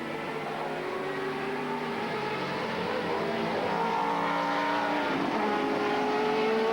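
A silver Ascari race car roars along during a sportscar championship race, its engine drone steady and loud with pitch shifting slightly as it passes, under constant track noise.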